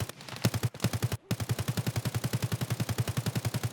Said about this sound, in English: You can hear the gunfire that hit the wall in there.